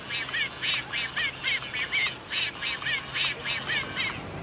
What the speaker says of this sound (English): A goose.